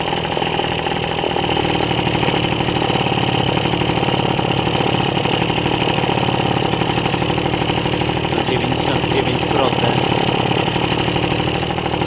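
A loud engine roars continuously at high revs, holding a steady, strained pitch close by, with a brief spoken remark partway through.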